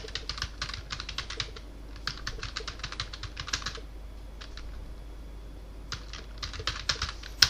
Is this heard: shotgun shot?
no